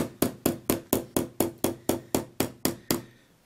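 Twelve sharp, evenly spaced metallic taps from a small jeweler's hammer striking a part of a 1981 Yamaha XV920 motorcycle speedometer, close and crisp, each tap ringing briefly before the next.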